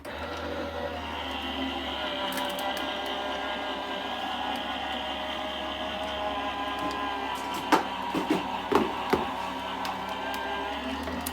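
A card-making machine rolls an embossing folder through for a winter cardmaking project, giving a steady mechanical rumble and hum with a few sharp clunks near the end.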